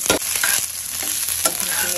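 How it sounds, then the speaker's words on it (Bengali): Chopped onions fry in hot oil with a constant close sizzle, while a utensil scrapes and stirs them in the pan several times; no voices. "তেলের ভিতরে হচ্ছে পেঁয়াজ সব কিছু একসাথে দিয়ে দিই"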